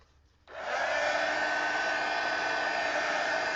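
A hair dryer switches on with a sudden onset and then runs as a steady, loud, even whoosh, blowing across a freshly painted art journal page.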